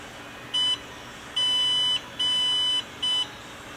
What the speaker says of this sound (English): We're going to listen to the series of beeps now.